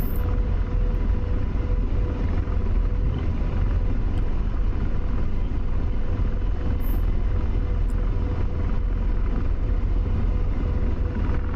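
Continuous loud rotor and turbine drone of an AH-64 Apache attack helicopter in the DCS flight simulator, a steady dense roar holding without pause throughout.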